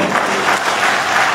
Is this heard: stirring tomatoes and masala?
no